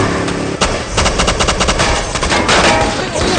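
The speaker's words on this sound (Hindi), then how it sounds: "तुम भी गोलियां चलाओ।" Rapid bursts of automatic gunfire crackle loudly and continuously in a Hindi-dubbed action movie, shots overlapping in dense volleys with a booming low rumble.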